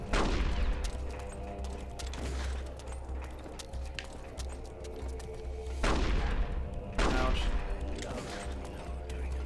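Gunfire in Metal Gear Solid: The Twin Snakes, a few loud sharp shots with short echoing tails scattered over a steady game background hum, with people talking.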